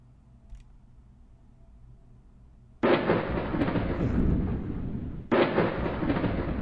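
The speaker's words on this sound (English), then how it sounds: "I sense that you sent lightning down." A lightning strike with thunder in a video game: after a quiet stretch, a loud broadband crash erupts and rumbles on, then a second booming burst hits a few seconds later, with no talking.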